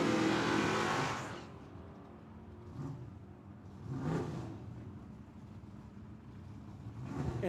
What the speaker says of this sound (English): this is gonna be a good drag race here